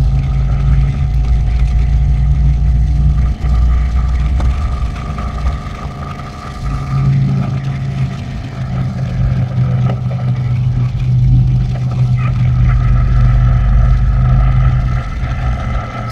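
A Rolls-Royce Phantom's engine drones and pulls hard up a hill climb road in third gear, a loud, continuous low rumble that dips briefly and then builds again, heard from inside the car.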